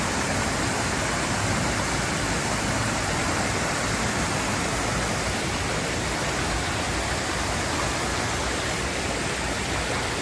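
Loud, constant rushing of falling water, a dense unbroken roar from nearby Mayang Falls in Trece Martires, with no voices.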